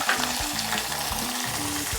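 Milk poured into hot ghee for bottle gourd halwa sizzles loudly and continuously up close, a dense steady hiss with bubbling underneath and no talking.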